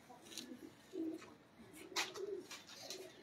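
Pigeons kept for a pigeon-flying contest coo softly in several short, low murmuring bursts, fairly faint and distant, with faint chirps above them.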